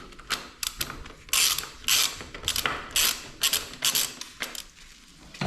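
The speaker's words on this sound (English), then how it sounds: "Now let's tighten the caliper bolts." Ratchet tightening the brake caliper bolts on a Ducati Scrambler motorcycle: repeated bursts of quick metallic clicking, close and fairly loud, with brief pauses between strokes and no talking.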